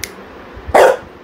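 A pitbull gives one short, loud bark or snarl, close by and alone, after a faint low growl.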